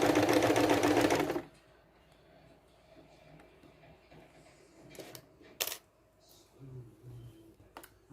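A sewing machine stitches around the edge of a quilt in one loud, dense burst of about a second and a half, then stops, leaving faint room noise broken by a few small clicks and handling sounds.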